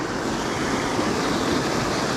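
Rushing white water pouring through a roadside culvert on a brook trout stream, a loud, steady broadband roar with no breaks, close by and alone without talk.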